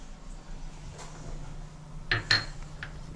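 A masher works a potato mixture in a pot for vada pav, giving soft quiet squishes with a couple of sharper metallic clinks near the end over faint background hum.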